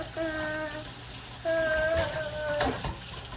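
Tap water runs steadily into a sink as hands are rinsed, with a continuous splashing hiss and a few faint tonal squeaks and clinks nearby.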